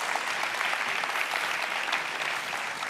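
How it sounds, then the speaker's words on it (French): Audience applause for Oussama Ammar at a startup talk in France, a steady dense clapping wash that fills the whole stretch without letup. "vous pouvez l'applaudir encore une fois"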